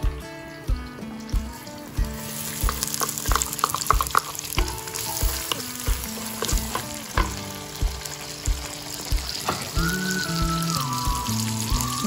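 Chopped onion frying in fat in a clay pot over a wood-fired stove, a steady loud sizzle with stirring knocks and scrapes recurring in a regular rhythm, and music playing throughout.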